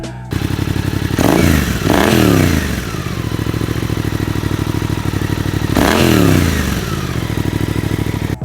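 A small motorcycle with a loud aftermarket exhaust idles with rapid popping, revved sharply twice into harsh blasts before falling back to the choppy idle.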